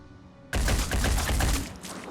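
A burst of rapid gunfire in the tactical game Phoenix Point bursts in abruptly after near silence, a dense rattling volley lasting about a second before fading out.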